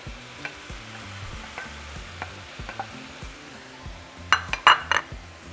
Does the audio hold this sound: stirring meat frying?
yes